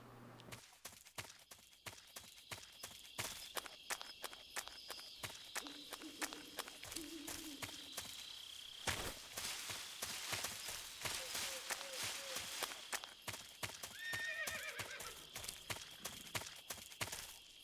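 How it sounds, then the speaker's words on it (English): Stock horse sound effects play in Metal Gear Solid 3, with rapid hooves pounding in a running rhythm throughout, mixed with game music tones and a short snort or whinny near the end. "That's a stock horse sound effect."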